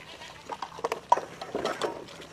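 Goats being fed at a farm learning centre in Prachuap Khiri Khan let out short, nearby bleats, several in quick succession amid soft rustling of feeding.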